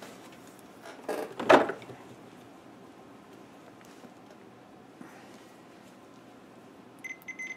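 A multimeter gives a short, thin continuity beep near the end while its probe touches the metal box of a DIY 120-volt AC extension cord. Before it comes a louder clatter of handling, then a quiet stretch.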